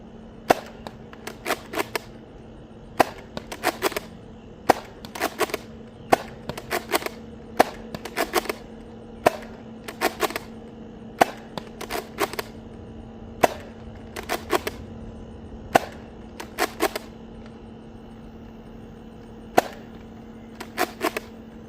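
A Nerf Rival Jupiter blaster fires AccuRival foam rounds in rapid bursts of sharp cracking shots, two to four quick pops per burst, repeated steadily over a constant low motor hum.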